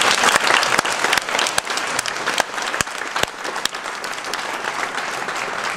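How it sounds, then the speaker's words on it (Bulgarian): Steady, close applause from a seminar audience after an SEO presentation, a dense wash of clapping punctuated by several sharp, loud individual claps, with no speech over it. "Аплодисменти за страхотната презентация."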